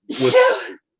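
A single sharp sneeze, close and fairly loud, bursting out and trailing off in under a second.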